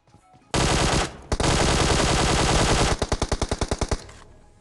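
Rapid automatic M4 rifle fire in a video game blasts in long sustained bursts, then breaks into a quick series of distinct shots before fading, loud and close.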